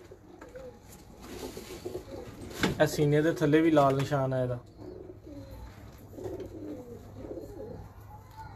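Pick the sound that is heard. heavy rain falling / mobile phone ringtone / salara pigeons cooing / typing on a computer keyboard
salara pigeons cooing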